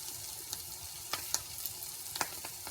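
Quiet sizzling of lion's mane mushrooms frying in an iron skillet, a soft steady crackle with a few sharper pops and spatters scattered throughout.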